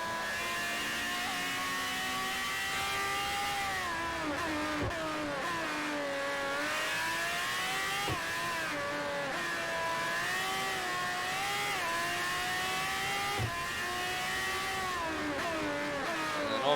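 Lola race car in Forza Motorsport 4, its engine revving and shifting through gears in a loud, high-pitched wail that rises and drops repeatedly over a sustained run, with no voices.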